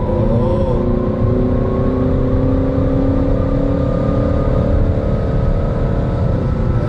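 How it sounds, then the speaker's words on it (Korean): A Peugeot 3008 GT engine drones loudly from inside the car while driving, a steady close hum whose pitch shifts slightly as revs change, heard alone without talk. "진짜 엔진 사운드 같은 느낌이 드네. 엔진 사운드로 착각할 만큼 사운드가 매력적이네요."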